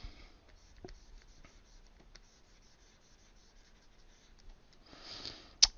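A pencil sketches on paper while a one-point perspective drawing is laid out. Faint, quiet scratches and short strokes come close up in irregular bursts, ending with a louder rub and a sharp tap.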